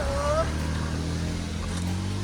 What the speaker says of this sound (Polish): Właśnie prawie pan na motorze przejechał.